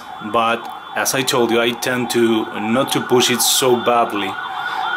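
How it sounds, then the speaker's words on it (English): Emergency sirens wail faintly in the distance beneath a person talking close up throughout. "sorry for the sirens"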